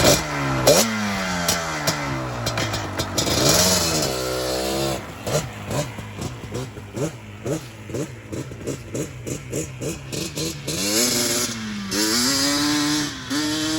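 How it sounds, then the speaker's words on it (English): Yamaha Banshee two-stroke ATV engine, close and loud, revved in a rapid series of sharp blips with choppy ringing exhaust, then accelerating hard and pulling away, no talking. "You love that two two-stroke sound."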